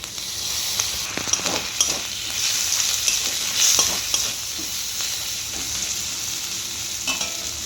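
Chopped tomato added to a hot frying pan, with a steady sizzle and intermittent scraping and stirring of a spatula in the pan, close and clear. No talking.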